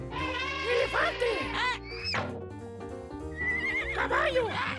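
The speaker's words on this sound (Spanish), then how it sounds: "¡Caballo!" Cartoon horse whinnying in a children's animal-names show, several shrill, wavering neighs over a backing music bed, loud and close.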